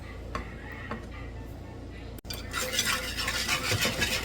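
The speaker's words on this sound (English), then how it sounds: "Whisk all that together good." Chili relleno sauce with seasoning and chicken bouillon whisked in a bowl: a few soft taps, then a quick busy swishing and clattering of the whisk, close and moderately loud.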